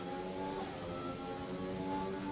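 A race car engine howls through the Monaco tunnel in a racing video game, a steady, high-pitched whine held evenly across the short stretch, no voices.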